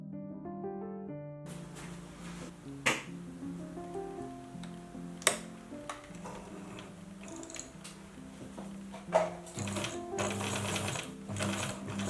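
A sewing machine stitches jersey fabric in a steady, fast mechanical whir with rhythmic needle clatter that speeds and pauses, joined by a few sharp clicks, with no talking over it.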